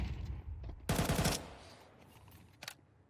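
Pistol fire in a Counter-Strike 2 match sounds as one quick, rapid volley of shots, followed a moment later by a single brief report, all fairly quiet against low background noise.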